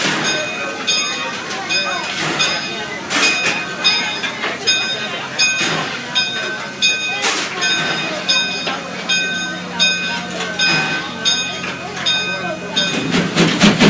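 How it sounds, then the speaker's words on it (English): Buckley Railroad 0-4-0T steam locomotive number 7 works close by, with rhythmic, evenly spaced exhaust chuffs and bursts of hissing steam over a constant mechanical clatter. "getting a chance to ride in the cab of a steam locomotive"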